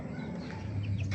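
Backyard breeding chickens clucking and murmuring close by, a steady busy mix of fowl calls with no talking.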